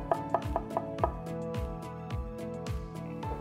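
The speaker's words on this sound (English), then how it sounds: "I would slice them up and then I would chop them up until they're nice and fine like the onions." A kitchen knife chops sliced mushrooms finely on a cutting board, with a quick run of sharp, evenly spaced blade strikes followed by softer, steady chops, close and clear with no talking.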